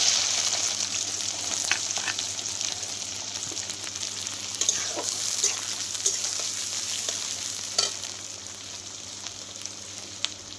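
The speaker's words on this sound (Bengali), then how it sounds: "পেঁয়াজ কুচানোটা দিয়ে দিচ্ছি" Chopped onion goes into hot oil with cumin seeds for a mutton dish and fries with a steady, fairly quiet sizzle, broken by occasional small pops and clicks.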